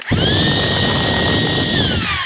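A Bauer power tool fitted with an adapted DeWalt battery runs with a steady, loud motor whine that holds one pitch and then drops slightly near the end, with no talking.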